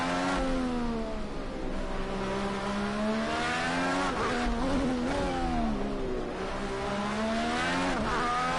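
A race car in Project Cars 2, its engine wailing loud and close, climbing and falling through the revs as it accelerates and brakes through corners, with a tire squeal here and there.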